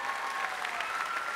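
Studio audience applauding a band on a French TV variety show, a steady dense wash of clapping with no gaps, fairly loud and close throughout.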